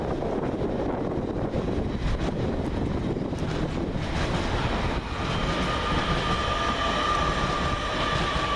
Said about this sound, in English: Coming the opposite way for LNER is 801229 with the 1517 service from London King's Cross to Edinburgh Waverley